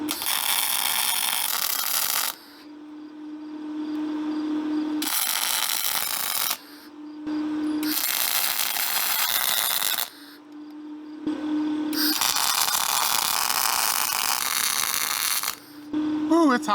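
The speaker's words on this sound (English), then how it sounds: "I'm gonna go ahead and build up this weld a little bit more, finish welding out the plates" Bursts of arc welding on steel plates of a log splitter build crackle and hiss loudly and close, in several runs of a few seconds each with short quiet gaps between them.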